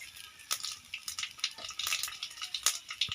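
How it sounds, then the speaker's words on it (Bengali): Five-spice panch phoron crackles and sizzles in hot oil left over from frying silver carp pieces, with a steady fry punctuated by sharp spitting pops and bursts at close range, no voices. "ফোড়নটা ভালো করে ভেজে নিয়েছি"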